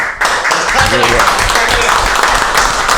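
Podcast audience applause rises into steady, close clapping that fills the stretch after a short quiet start, with voices talking over it.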